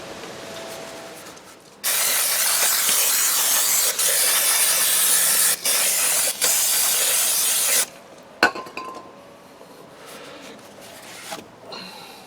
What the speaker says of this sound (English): Brake cleaner. Now to take off the rest of the crud.